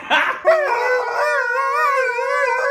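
A Shih Tzu dog lets out a sustained, wavering howl lasting a few seconds, close and clear, with a short yip at the start.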